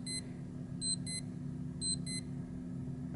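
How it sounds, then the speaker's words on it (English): A vintage Omega Memomaster digital watch's countdown timer alarm gives thin, high electronic beeps in short paired bursts, repeating twice over a quiet steady room hum. "That's the sound of the countdown timer."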